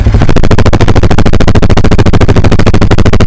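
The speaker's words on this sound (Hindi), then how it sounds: "आपका 200 का एग्जॉस्ट साउंड सुनिए।" Loud, close exhaust of a Bajaj Pulsar NS200 motorcycle with a fast, even pulsing beat, a continuous throaty rumble held steady throughout.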